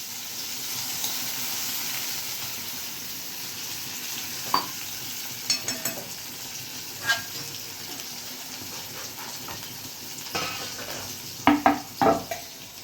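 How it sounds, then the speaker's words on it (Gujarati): A garlic tempering sizzles steadily in a pan for a Gujarati thali, while a spoon stirs it and scrapes the metal, with sharper clinks toward the end and no voices. "તમે આમ વઘાર આમ કરો, 2 સેકન્ડ ચમચી ફેરવીને પાણી નાખી દો ને એટલે તમારે વઘાર બળે નહીં"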